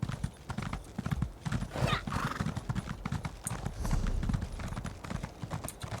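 Horses at a stable in the Elder Scrolls Online video game, with repeated clip-clop hoofbeats, snorts and a whinny, moderately close and under a voice talking.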